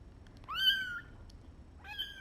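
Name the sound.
orphan kittens meowing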